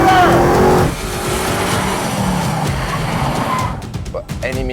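A 900-horsepower Audi e-tron electric race car on a track accelerates past, a loud broadband whoosh with tire and wind noise filling the clip, fading somewhat near the end; faint speech may sit underneath.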